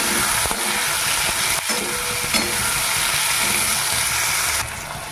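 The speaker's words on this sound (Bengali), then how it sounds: "টমেটোটাকে একটু ভেজে নেব" Chopped tomatoes frying in a pan over onions and green chilies fill the clip with a loud, steady sizzle that runs unbroken throughout, with faint stirring scrapes mixed in and no voices.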